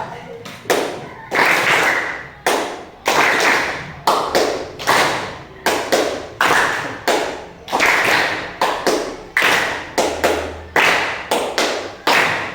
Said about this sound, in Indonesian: Kalau saya tepuk sekali, kalian 2 kali. Kalau saya 2 kali, kalian sekali.